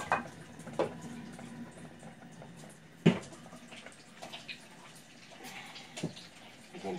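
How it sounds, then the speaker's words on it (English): Tap water running steadily while hands are washed in a home kitchen, a soft continuous wash with a few louder splashes and clunks near the sink, no talking. "Let me wash my hands again."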